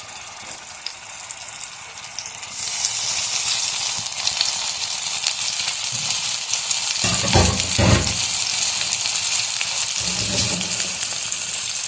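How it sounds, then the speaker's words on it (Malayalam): Masala-stuffed brinjals sizzle loudly as they go into hot oil in a pan, a steady fry with a few bursts of stirring or turning, close and continuous with no talking. "ഇനി ഇതിൽ നമ്മൾ മസാല നിറച്ച വഴുതനങ്ങ ഓരോന്നായിട്ട് ഇതിലിടുക."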